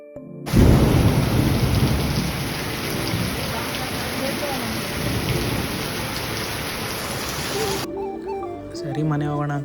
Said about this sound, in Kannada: ಇವಾಗ ನೋಡಿದ್ರೆ ಮಳೆ ಈ ಥರ ಹೊಡಿತಾ ಇದೆ